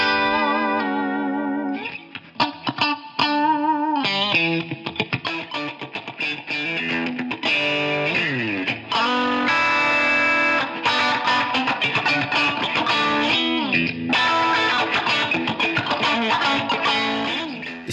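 Electric guitar played through an amp simulator with drive and distortion, a run of picked notes and chords, some sustained and bending, with echo and chorus-like effects, loud and alone without talk.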